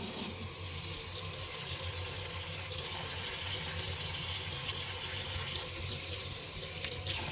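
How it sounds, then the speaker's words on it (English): Steady running cold tap water splashing continuously into a sink while rinsing a wig, a full, even gush lasting throughout with no talking. "So you're gonna use cold water to rinse it."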